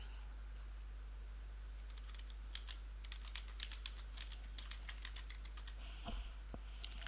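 Fast, light typing on a computer keyboard while building a simple HTML and CSS webpage, a quick run of close clicks over a steady low hum, ending with a couple of louder taps.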